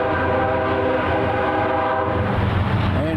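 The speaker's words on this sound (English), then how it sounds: "Man, that's one nasty horn" A freight train sounds its horn up close with a loud, sustained blast, and the rumble and clatter of the rail cars continue beneath it.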